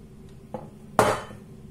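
Two metallic knocks of a saucepan being handled while making a Biscoff flan, a light one followed by a louder clank that rings briefly, in a quiet room.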